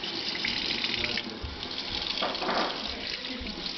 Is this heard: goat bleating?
no